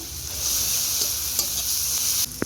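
Cumin paste and chili paste frying together in a pan, a close, steady sizzle with a few light stirring taps and a sharp clink near the end, no talking.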